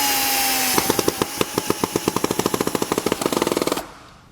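Screws driven with a power driver to fix kayak trailer bunks to their brackets: a brief whine, then a rapid run of sharp rattling impacts that quicken before stopping abruptly.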